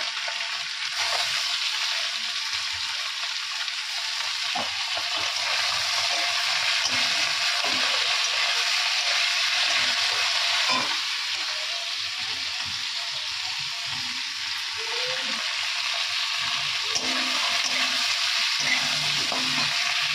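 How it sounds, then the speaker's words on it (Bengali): Onion and chili fry in hot oil with panch phoron, producing a loud, steady sizzle with frequent stirring scrapes and no talking. "তো তেলের মধ্যে আমি 5 ফোড়ন দিয়ে দিয়েছি অলরেডি। এখন পেঁয়াজ লঙ্কাটা দিয়ে দেবো।"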